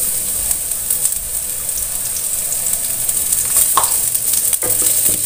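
Ginger, shallots and garlic sauté in a hot wok for soup, giving a loud, continuous bright sizzle with occasional scrapes and pops of stirring, close and unbroken, with no voices.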